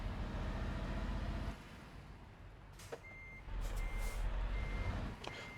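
A truck backing a trailer into a parking spot in Euro Truck Simulator 2 gives off a repeating reversing beep over the low diesel engine drone, with a brief air-brake hiss in the middle.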